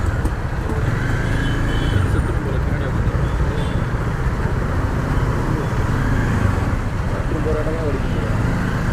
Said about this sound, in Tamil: ஸோ இங்கே ஒரு டிராஃபிக்கு, இதை தாண்டி போய் ஆகணும்.